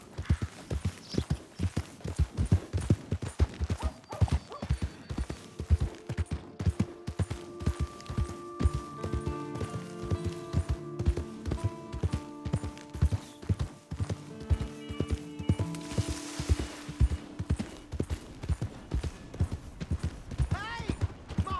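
Horse hooves clip-clop steadily in Red Dead Redemption 2, a regular walking beat that carries on over a long stretch while a tonal musical score plays underneath.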